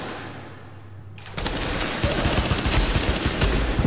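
Gunfire in the video game The Division, with an automatic weapon opening up after a quiet start and then rattling in dense, loud, continuous bursts.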